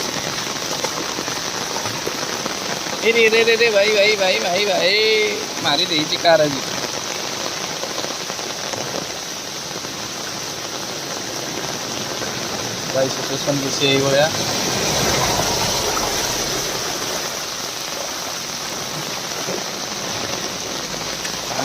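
Heavy rain pours down in a continuous, loud hiss and drumming that runs throughout while someone talks excitedly over it.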